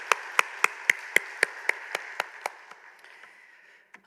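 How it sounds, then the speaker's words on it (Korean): Sparse, slowing handclaps from a church congregation for the Hosanna choir, roughly a dozen distinct claps tapering off and fading over a few seconds. "우리 호산나 찬양대 한 번 더 박수로 격려하겠습니다"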